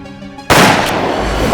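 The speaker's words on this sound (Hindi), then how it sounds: "तुमने गोली चलाई?" A single sharp gunshot cracks out loud and close, ending quiet background music in a Hindi crime drama scene, followed by a sustained noisy ring.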